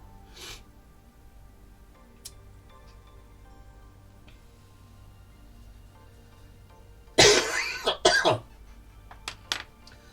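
A sharp burst of coughing breaks a quiet room, two or three harsh coughs in quick succession, followed by a few faint clicks.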